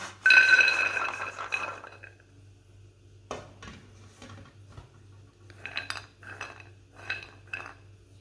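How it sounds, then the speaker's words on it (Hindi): Roasted almonds are transferred from a hot pan into another utensil, starting with a loud metallic scraping clatter, then scattered clinks and taps of metal against metal over a low steady hum. "इसे दूसरे बर्तन में निकाल लेते हैं।"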